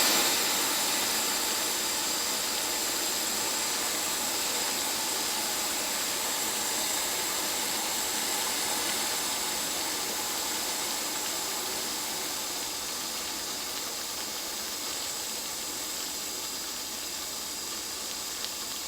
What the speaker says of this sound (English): we're at a rolling boil